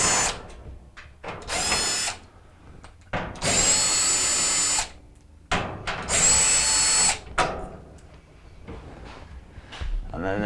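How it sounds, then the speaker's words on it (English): A power drill backs out the four 5/16 screws from the front housing of a Maytag dryer, with several loud bursts of whirring spin separated by pauses and handling clatter. "we're going to take the 4 5/16 screws off the front housing."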